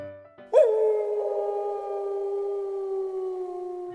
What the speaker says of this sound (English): the kid heard what sounded like the howl of a wolf that likes to creep around in the fields